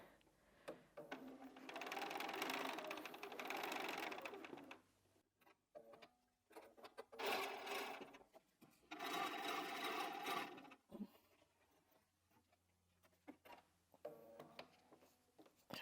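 A sewing machine stitching an accurate quarter-inch seam on a quilted pineapple block: close, rapid mechanical chattering in several bursts, with short pauses and soft fabric handling between them.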